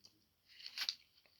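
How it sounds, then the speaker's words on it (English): A knife slicing through sellotaped paper toy packaging gives a short scraping, tearing rasp that swells and fades over about a second, close and fairly quiet with no talk. "it's me having to take a knife to the paper, because they absolutely sellotaped it all the way around"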